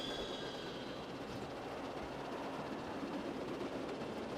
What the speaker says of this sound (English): You gotta ride the train.